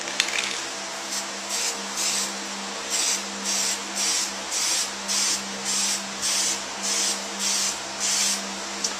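Aerosol cans of VHT Nite Shades tint are sprayed onto a car taillight in a steady series of about ten short hissing bursts, evenly paced and close, with no talking.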